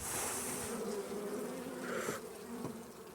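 Honeybees buzz steadily around an open hive of a calm, gentle colony, a continuous close droning hum with individual bees passing near, and no talking.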